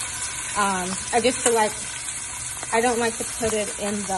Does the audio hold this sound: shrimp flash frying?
yes